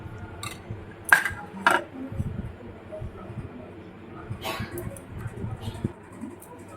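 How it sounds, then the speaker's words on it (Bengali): Semolina idli batter with a spoon of white oil being stirred in a metal bowl, giving a few sharp clinks and scrapes of the utensil against the rim amid quieter rustling and faint background voices. "দিয়ে ভালো করে এটা নাড়াতে লাগবে।"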